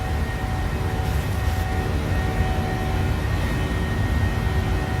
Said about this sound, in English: Hear those engines screaming coming out of Iqaluit.